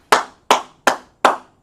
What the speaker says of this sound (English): Clap it up for Kazamar.